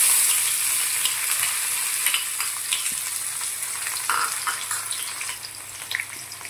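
Onions hitting hot oil in a pan with already fried cinnamon and cardamom for Bengali khichuri, giving a steady close sizzle with scattered crackles and light stirring scrapes throughout, no voices.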